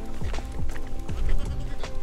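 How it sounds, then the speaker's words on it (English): Small goats near a Gobekli Tepe park sign give a few short, nearby bleats over outdoor noise, with faint hoof-like clatter in the background. "It's a goat."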